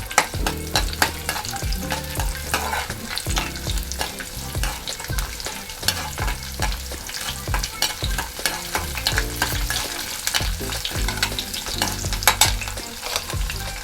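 Mustard seeds and urad dal fry in hot oil with a dense, continuous crackling sizzle, broken by regular scraping strokes of a stirring spoon against the pan, close and fairly loud throughout.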